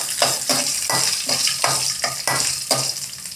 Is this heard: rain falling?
no